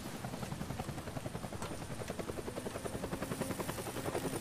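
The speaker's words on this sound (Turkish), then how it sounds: "Helikopter." A helicopter in the post-apocalyptic video game Deadlight throbs steadily with rapid, rhythmic rotor chop, close and continuous without any voices over it.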